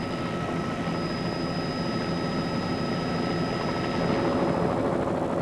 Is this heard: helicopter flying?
yes